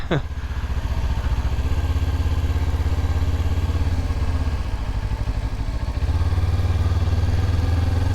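A motorcycle engine idles close by with a loud, rapid chugging throb that holds steady, then grows heavier and deeper near the end.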